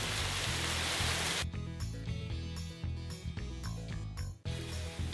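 Rain falls in the woods of a national forest. A dense, steady hiss of rain fills the first second and a half, then quieter pattering continues beneath other tonal sounds.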